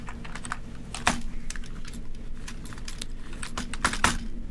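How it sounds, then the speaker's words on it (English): A computer keyboard is banged and typed on rapidly to unstick a key, producing a dense run of sharp clacking taps close up, with a steady low hum underneath and no talking. "If you just bang on your keyboard enough, you'll eventually unstick it."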